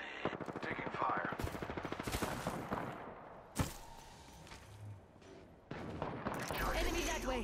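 Rapid automatic gunfire rattles in dense bursts in the Apex Legends video game, loud and close, broken by a sharp single blast and pauses, with game voice lines and mechanical clicks mixed in.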